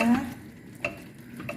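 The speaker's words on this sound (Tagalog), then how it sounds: "halo-haluin mo lang hanggang lumambot yung noodles kasi hindi pa siya masyadong malambot" Noodles being stirred in a pan, giving soft scraping and light sizzling with a short clank, brief and fairly quiet.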